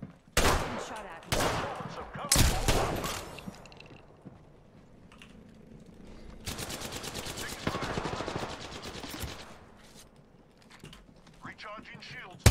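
Gunfire in the video game Apex Legends, with sharp bursts early on and a longer rapid automatic volley in the middle, loud over a quieter stretch of game sounds.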